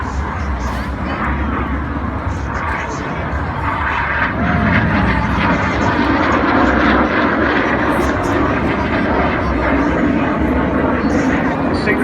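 A lone Red Arrows display jet trailing smoke flies over the Blackpool seafront airshow, a loud continuous roar that swells around the midpoint, with a commentator talking over it.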